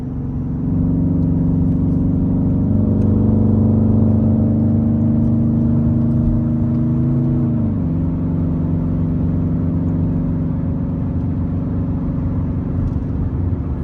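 A car engine running on ethanol fuel while driving on a Texas trip, a steady loud mid-pitched drone with a held tone that rises slightly then drops around the middle, continuous throughout with no talk.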